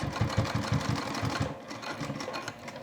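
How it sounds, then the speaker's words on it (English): A sewing machine stitching a slip pocket into a bag lining, a short fast run of close rhythmic needle thumps that stops partway, followed by quieter handling noise. "So first I sew down a couple stitches."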